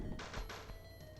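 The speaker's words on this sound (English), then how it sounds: "The kind of fart explosions. A Genesis signature." Retro Sega Genesis video game explosions burst out in a quick series of three or four crunchy, noisy blasts, then two softer ones, all fairly faint.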